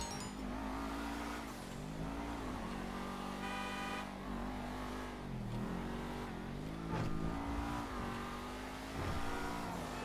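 An Aston Martin One-77 (Seven-70) in GTA 5 Online revs and shifts repeatedly, its pitch climbing and dropping through gears, with tire squeals and a steady loud roar.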